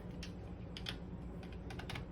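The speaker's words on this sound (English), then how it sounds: "I'm gonna take my pencil, I'm gonna sign that." Close, dry scratches of a pastel pencil on paper in a handful of quick, irregular strokes over a steady low background hum.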